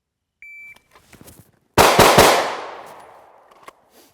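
Two rapid gunshots fired at a target on a range, a low shot followed almost at once by a high shot, loud and close with a long echoing tail; a brief electronic beep comes before them.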